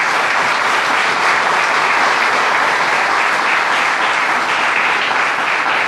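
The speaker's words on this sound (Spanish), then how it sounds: "Démosle un aplauso" Loud, dense, continuous applause from a church congregation welcoming Andrea and Pablo, sustained at an even level with no talking over it.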